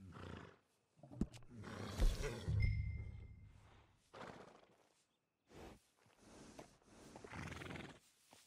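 In the Red Dead Redemption 2 video game, a horse snorts and whinnies near a stable while hooves clop, in loud bursts separated by brief gaps.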